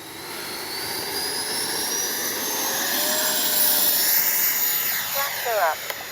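A Freewing 90mm T-45 radio-controlled jet with ducted fan spools up and takes off with flaps set, a steady loud whine and rushing roar building and holding, with a brief fluttering toward the end.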